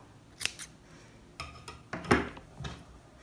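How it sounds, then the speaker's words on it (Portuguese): Scissors snip thread close up while making a handmade fabric doll from cloth scraps, giving several sharp, brief cuts in uneven bursts with short pauses between them. "Posso cortar aqui pra ficar tudo igual."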